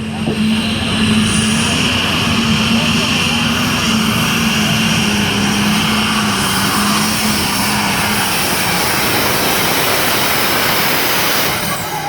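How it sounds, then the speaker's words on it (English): A heavy super stock diesel truck with up to four turbochargers roars loudly and continuously at a truck pull, a sustained droning engine note with a steady pitch and broad noisy rumble throughout. "Some of these guys have up to 4 chargers under the hood on these heavy super stock diesels."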